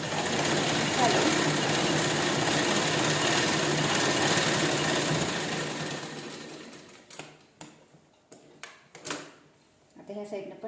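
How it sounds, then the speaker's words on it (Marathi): A sewing machine runs steadily and loud for about six seconds while stitching a new pocket onto a garment, then stops, followed by a few short clicks and handling knocks of fabric and parts. "त्याला उभ्या आडव्या स्टिच करून घ्यायचं"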